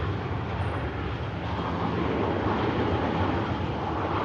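A TUI airliner departs Manchester Airport as a steady, broad engine roar with wind-like rumble, loud and unbroken throughout, no talking.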